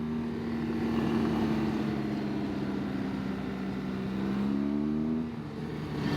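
A rally car accelerates hard along a dirt road at the BMW Green Mountain Rally, its engine droning loud and close in a long continuous pull, rising in pitch before easing off near the end.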